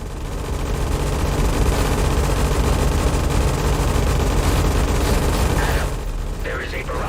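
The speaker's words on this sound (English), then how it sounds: "Fire all reserve torpedoes at once." Volley of torpedoes launched in the space-combat game Everspace 2, a dense, loud, continuous barrage of rumbling blasts and bursts that rolls on for several seconds before thinning out at the end.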